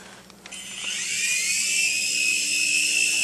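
A small beginner toy helicopter spins up with a high, thin electric whine that rises after a brief start and then holds steady and close, with a faint hum beneath and no talk.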